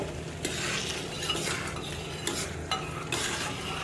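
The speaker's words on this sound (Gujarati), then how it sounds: "હવે આને પણ મિક્સ કરી લઈશું આપણે" Crushed chavanu is stirred into a peanut curry in a pan, with steady scraping and soft scuffs of a spoon against the metal over a continuous gentle sizzle, with a few sharper clinks and no voices.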